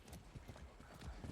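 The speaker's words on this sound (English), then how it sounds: "I like riding on the back of the horse" Horse hooves clip-clop in a quick, steady rhythm as a horse is ridden in the video game Far Cry 6, faint and brief with no other sounds over them.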